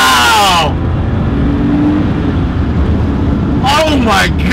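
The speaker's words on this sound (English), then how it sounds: "I want to do a little rip in the Porsche. So we're gonna wind it out, right?" A 1995 Porsche 911 993 C4 revved hard, the engine note climbing to a loud sustained roar, heard from inside the car with voices exclaiming at the start and end.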